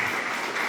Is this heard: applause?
yes